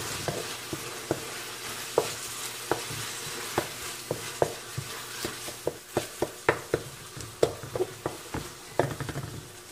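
A pot of misua noodle soup is stirred, with spoon knocks and scrapes against the pot coming faster toward the end over a soft simmering hiss.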